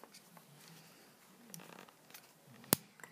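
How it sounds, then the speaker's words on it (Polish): A single sharp, loud mechanical click stands out against quiet rustling and faint handling noises. "Słychać kliknięcie i nie drgnie."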